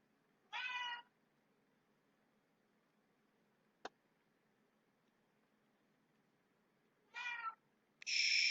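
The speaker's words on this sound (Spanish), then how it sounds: "no hagas miau" A hungry pet cat meowing, with three separate meows spread over several seconds against a quiet room, close and fairly clear, plus one brief tick in the silence between them.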